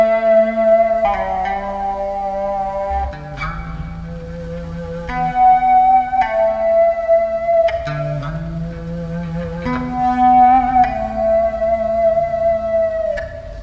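Sustained notes on a whammy-bar bass with a Sustainiac sustainer in one-octave harmonic mode ring with a bright harmonic an octave above, gliding between a few pitches with smooth, singing sustain and no voices.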